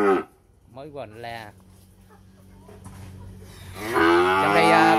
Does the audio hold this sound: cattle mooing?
yes